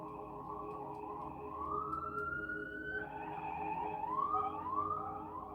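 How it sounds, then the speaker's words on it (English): Emergency sirens wail outdoors at a distance, their rising and falling tones sweeping steadily over a constant low background rumble for the whole stretch, with no talking. "Y'all hear those sirens?"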